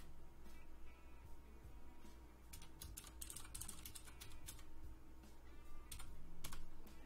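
Password being typed on a computer keyboard during an Arch Linux install, a quick run of light key clicks clustered mid-way over a steady low background hum, with no voices.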